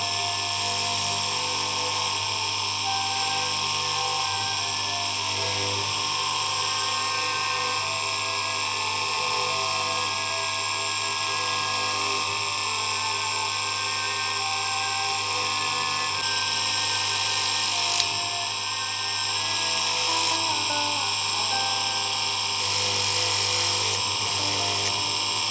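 A steady, close whine of a spinning power tool runs throughout as 500 grit sandpaper smooths a handmade men's ring of brass, copper and white alpaca, holding constant with small fluctuations in pitch and load and no voices.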